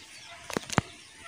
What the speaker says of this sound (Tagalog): O may manok pa nga naglimlim.